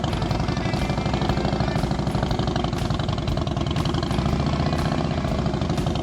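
Motorcycle engine running steadily at a practice session, a loud close rapid pulsing drone held at constant revs throughout with no talk.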